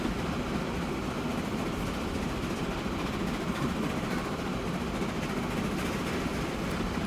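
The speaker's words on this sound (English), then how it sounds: "That was a passenger train going by us, connecting Oceanside with Jersey." A passenger train in Transport Fever 2 rolling past close by, a steady, dense rumble and roar of wheels and engine that stays loud and unbroken throughout, with no voices over it.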